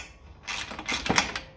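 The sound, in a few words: socket wrench removing bolts from Ferguson tractor heat shield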